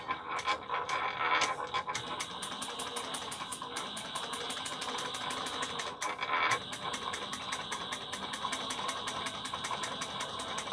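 A sewing machine backstitching a travel bag seam chatters in rapid, even stitch bursts, with a brief pause before resuming its fast mechanical rhythm, fairly close and alone.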